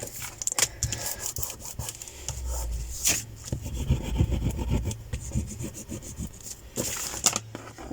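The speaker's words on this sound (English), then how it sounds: "Give it a really good burnish down" A book cover is burnished down by hand, giving close, continuous rubbing and scraping strokes of moderate loudness with a few sharper scuffs, and no talk.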